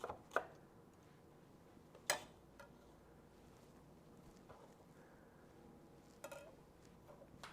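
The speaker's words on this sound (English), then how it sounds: "I can continue to cut, and I can look up, I can talk to people, hang out while I'm still cutting vegetables" A kitchen knife chops vegetables on a cutting board, with the hand held in a bear claw grip: sparse, sharp, close knocks spaced a second or two apart over a quiet background.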